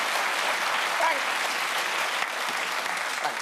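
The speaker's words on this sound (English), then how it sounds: "If you're going to clap, clap." A studio audience at a British comedy panel show claps steadily for a few seconds, dense and even, with no voices over it.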